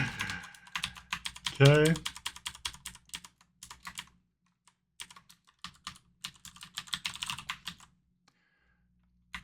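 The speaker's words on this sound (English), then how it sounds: "So I start typing rather than talking, seeing as that seems to get me in the most trouble." Rapid clatter of a computer keyboard while programming C++ and OpenGL, keystrokes arriving in uneven bursts with short pauses, close by, with a brief spoken word early on.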